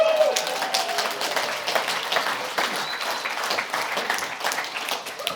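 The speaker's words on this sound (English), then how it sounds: "Everybody give Jason a round of applause." An audience at a regional business event claps for Jason as he is called up, lively uneven clapping from a crowd, loud at first and then settling, with faint voices underneath.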